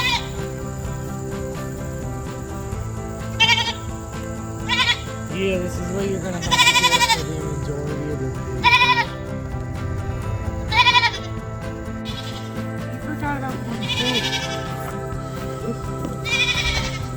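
Goats on a homestead bleat and scream in loud, repeated bursts every second or two, with insects chirring in the background and a person talking between the calls.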